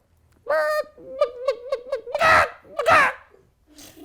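A human voice mimics an agitated chicken, with a run of short squawking clucks followed by two loud, harsh, drawn-out squawks.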